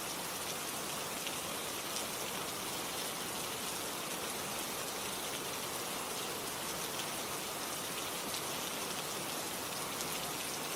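Steady rain falls evenly and densely in a constant, unbroken hiss, close and full with no pauses or voices.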